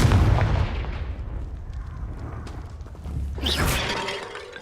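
A Confringo blasting spell bursts in the Hogwarts Legacy video game, a loud crackling blast at the start trailing into rumble, then a second sharp explosive burst with shattering debris near the end.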